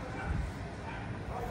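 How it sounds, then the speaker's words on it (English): An XL Bully puppy yips and whimpers in repeated high, close cries over a steady noisy background, with people talking nearby. "It's a puppy."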